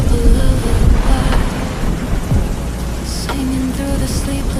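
Steady, heavy rain hisses loud and close throughout, with low thunder rumbling underneath, strongest at the start, and no voices.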